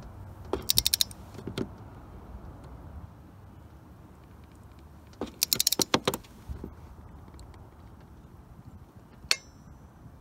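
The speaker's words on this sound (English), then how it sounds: "So now we're gonna use the torque wrench, so you can hear the click." Torque wrench tightening spark plugs on a 2003 Jaguar XJ8, close metallic ratcheting in short rapid bursts of clicks, with two clusters and a few isolated snaps separated by quiet pauses.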